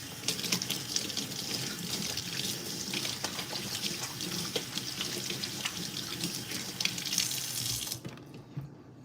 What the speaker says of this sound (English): Let me wash my hand.